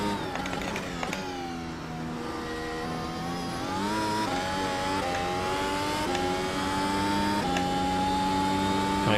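Mercedes W12 Formula 1 car engine at full throttle in iRacing, a high, strident whine that climbs steadily in pitch with brief drops at gear changes, loud and continuous with no talking.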